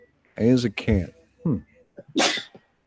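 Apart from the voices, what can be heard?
sneeze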